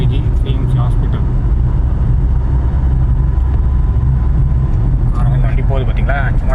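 A Toyota Innova Crysta cruising on a highway near Vellore at around 80, its engine and road noise a constant low rumble inside the cabin while someone talks over it.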